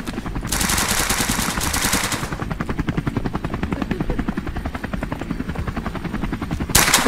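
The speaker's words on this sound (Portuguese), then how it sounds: "Olha lá, daí subiu o helicóptero." Helicopter rotor thumping steadily in the Brazilian-made FPS game Capital, with bursts of automatic gunfire breaking over it near the start and end.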